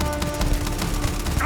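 A gun in the video game Starfield fires rapid bursts, a close, loud stream of evenly spaced shots rattling continuously across the moment.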